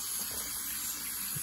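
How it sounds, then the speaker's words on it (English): Water running steadily from a tap while hands are rinsed under it, a constant close hiss and splash with no talk. "Get a good rinse in."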